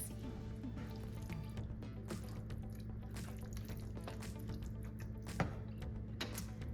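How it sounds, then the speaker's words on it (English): A pot of vegan chili simmers on medium-low heat, giving soft, continuous bubbling with small pops and drips, fairly quiet and close. "nice and bubbly at a simmer"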